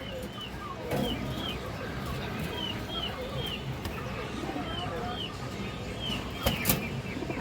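Female Hurricane-line pigeons coo softly and flap their wings, with a few louder wing bursts near the end, over steady background chatter and ambient noise.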